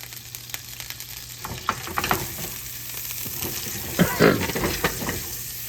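Butter melts in a pan while making an old-school bananas Foster dessert, giving a soft steady sizzle with scattered crackles and a few louder spits and stirring scrapes, close and unbroken by talk.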